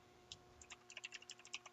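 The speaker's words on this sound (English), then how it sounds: "My keyboard is probably very loud." Rapid keystrokes on a loud computer keyboard, clacking in quick irregular bursts that pick up pace after a soft start, close and distinct with no voice.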